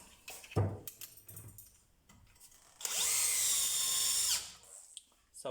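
A DeWalt DCD996N 18V XR cordless drill, a powerful professional model driving an 8 mm bolt, whirs loudly for about a second and a half after some handling clatter and a few tool knocks.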